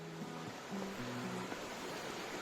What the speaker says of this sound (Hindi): ये रही दूधी नदी।